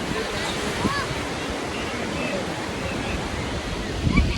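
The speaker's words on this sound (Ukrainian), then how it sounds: "ого, такі хвилі високі" High sea waves on a beach make a continuous loud roar of surf with wind across the microphone, swelling slightly near the end.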